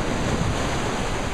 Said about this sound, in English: That sound of crashing surf that you hear